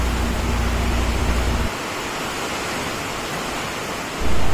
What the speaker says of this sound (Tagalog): dahan-dahan na pong lumalakas ang pagpatak dito ng ulan